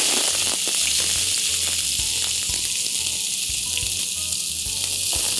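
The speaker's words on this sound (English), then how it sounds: "once the onions are lightly sautéed" Sliced onions sautéing in sunflower oil in a wok, a steady loud sizzle with bright hiss throughout and occasional soft scraping or stirring clicks, no voices.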